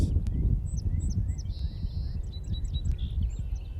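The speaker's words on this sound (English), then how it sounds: "And listen to the birds sing as she speaks." Several birds chirp and whistle in short, scattered calls, faint and somewhat distant above a steady low rumble outdoors.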